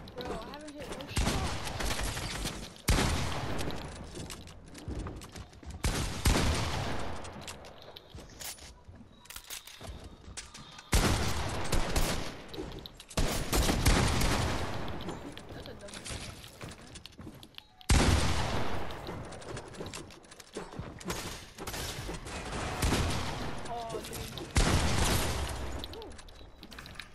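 Gunfire in the video game Fortnite: repeated loud bursts of rapid shots in several waves with brief pauses, close and dense, with occasional talk in between.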